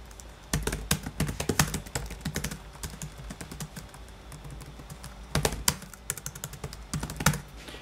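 Rapid clicky keystrokes on a laptop computer keyboard, close and fairly quiet, come in irregular bursts with short pauses between runs of typing and no talk.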